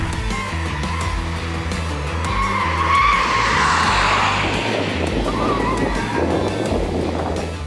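Tesla Model 3 Performance with the 75 kWh battery launching hard on a race track, a loud steady roar with tires squealing and skidding throughout, no talk over it.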